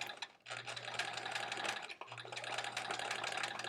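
Sewing machine stitching raw edge appliqué back and forth, a fast buzzing needle run with a short pause midway before restarting, close and alone.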